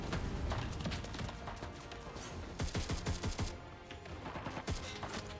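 Gunfire in the World War II shooter Enlisted, a faint, busy battlefield of distant rapid shots and bursts, rising into clustered volleys toward the end.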